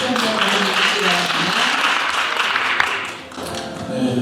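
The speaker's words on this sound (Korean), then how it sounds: "박수 한번" An audience at a youth FameLab science-communication contest in Chungbuk breaks into applause. Steady clapping fills the room while a voice speaks over it, and the clapping fades toward the end.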